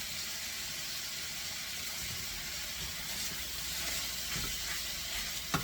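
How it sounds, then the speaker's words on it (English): Ground beef for sloppy joes sizzles in a pan while being stirred and broken apart, a continuous frying hiss with soft scraping and occasional small clicks of the utensil near the end. "keep breaking the meat up"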